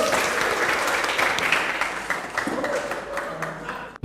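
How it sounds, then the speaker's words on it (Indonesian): Audience applause at a Smart Team motivational session, a dense steady wash of clapping that holds for about four seconds, with some voices mixed in, before cutting off abruptly at the end. "Tepuk tangan semua"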